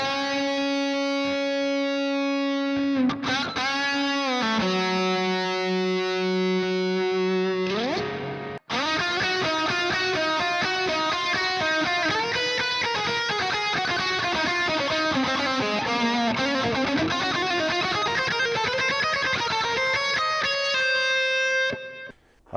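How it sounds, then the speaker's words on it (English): Electric guitar runs through an Empress Reverb pedal set to a classic hall reverb with delay, with long distorted chords and sliding notes washing into lush, echoing tails for over twenty seconds. "it's a classic hall with a delay feature on over the top"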